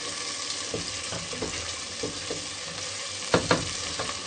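Sarson ka saag with garam masala and green chili is stir-fried in oil, a low sizzle under repeated scraping strokes of a spatula, with two louder knocks near the end.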